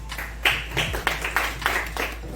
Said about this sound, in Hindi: 3 के ऊपर आपको ताली बजाना है